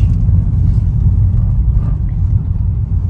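Steady low engine rumble of cars idling and creeping in a weekend traffic jam on the Mumbai–Pune Expressway, a dense, continuous drone with no voices.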